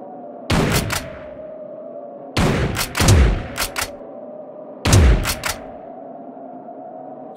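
Rifle shots in the Big Buck Hunter arcade game on a moose hunt: loud, isolated cracks, some coming in pairs, each followed by a short ringing tail, with pauses of a second or two between them.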